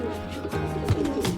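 Pigeons coo in low, throaty bursts, several soft rolling calls close by with faint background murmur.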